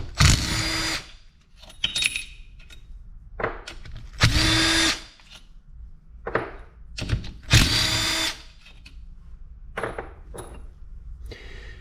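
Power drill backing screws out of the engine cases of a Kawasaki KFX400 ATV during case splitting, with several loud, close whirring bursts of a second or two each, separated by quieter pauses with light tool handling.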